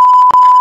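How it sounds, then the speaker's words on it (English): A steady, loud electronic censor beep tone holds almost without a break for under a second, cut briefly once in the middle. "Can you put a beep on this?"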